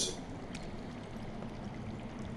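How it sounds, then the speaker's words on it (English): Underground water flowing in a Game of Thrones video game, a steady, muffled rushing stream that runs without a break, with a brief brighter splash at the very start. "That's water. I hear water. From underground."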